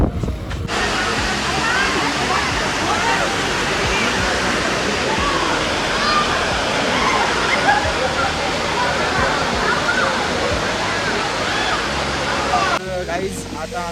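Neer waterfall near Rishikesh pours with a loud, continuous rushing roar that fills the whole stretch, with faint crowd noise mixed in from the busy spot.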